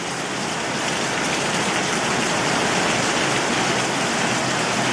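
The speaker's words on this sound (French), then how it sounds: "Il pleut, il mouille." Rain pours down as a dense, even hiss of falling water that stays loud and unbroken throughout, with no voices.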